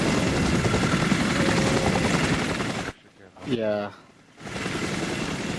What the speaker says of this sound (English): helicopter is like here, but it's not landing yet.